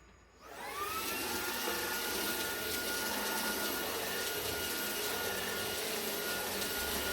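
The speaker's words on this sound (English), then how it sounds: "I'm just going to finish vacuuming." A household vacuum cleaner switches on and roars steadily at close range, a continuous whining hum that holds level throughout with no talking.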